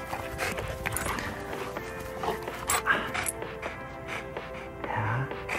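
A pet dog moving about and vocalizing indoors, with soft whimpers and a bark or two. Tapping and scuffling footfalls and a steady tonal hum run underneath.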